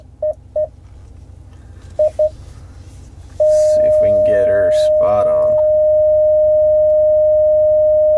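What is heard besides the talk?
beeping while reversing a 2019 Ram 1500 truck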